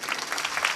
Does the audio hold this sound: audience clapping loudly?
yes